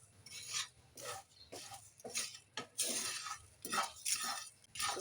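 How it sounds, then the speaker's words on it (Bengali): Whole tempering spices, including fenugreek seeds, frying in a pan, with scattered crackling pops and light clinks of a utensil stirring, fairly faint and uneven in bursts. "এগুলো ভেজে নিচ্ছি"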